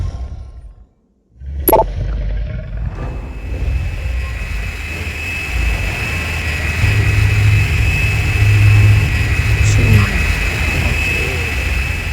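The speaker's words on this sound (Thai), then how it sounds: "เดี๋ยวขอเรียกเครื่องบินกลับเลยแล้วกันครับ" An aircraft in the Carnivores: Dinosaur Hunter Reborn video game arrives with a loud, steady engine drone after a sharp click, the hum swelling slightly and continuing to the end.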